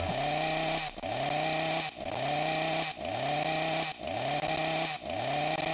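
A video game chainsaw enemy's chainsaw revs in repeated bursts, about once per second, each roar dipping briefly before surging again, loud and close.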